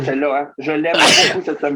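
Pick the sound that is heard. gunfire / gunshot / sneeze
sneeze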